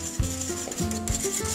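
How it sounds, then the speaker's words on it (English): A spoon stirs milk heating in a pot, giving a steady close scraping and rubbing with a few louder strokes and no talk. "I'm gonna just keep stirring a little bit."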